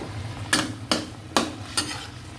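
Food being stirred and fried in a pan, with four sharp scraping strokes of a utensil spaced about half a second apart over a low, steady sizzle.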